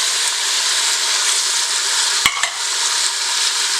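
Mushrooms and caramelized onions sauté in an Instant Pot with a steady, close, loud sizzle, and one sharp clack of a utensil against the pot comes partway through.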